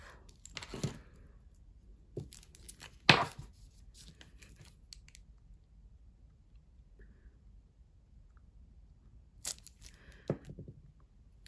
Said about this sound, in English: I'm actually just going to cut the base of that off